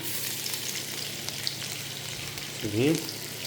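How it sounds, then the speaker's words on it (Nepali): Onion, ginger and green chilli fry in hot oil in a karahi for Nepali chilli chicken, giving a soft steady sizzle with a brief stirring scrape near the end. "मैले प्याजलाई पनि यहाँ यसरी हालेँ, साथमा फ्राई गर्ने प्याज, अदुवा और ग्रीन चिली पनि साथमा हजुर खुर्सानी"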